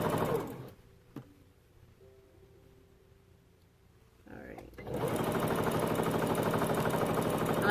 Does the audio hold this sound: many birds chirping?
no